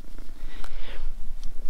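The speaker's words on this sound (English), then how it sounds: "just the purrs, loving the purrs" A cat purrs up close with a low, steady rumbling throb that stays loud through a short stretch, with slight breathy pulses and no talking.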